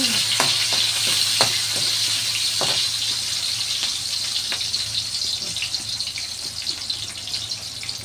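Garlic and vegetables for Filipino pinakbet sautéing in a hot pan, a steady close sizzle with scattered crackles and pops and a few clattering stirs, continuous throughout.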